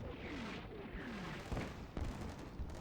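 Distant mortar and grenade launcher fire booms in the video game CMSF2, a few dull thuds and rumbling impacts over a steady battlefield backdrop, fairly faint and muffled.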